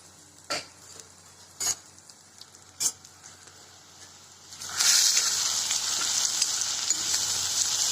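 Onion, garlic and asafoetida are stirred in a pan with a few separate spoon clacks, then a loud steady sizzle and hiss swells up close and continues.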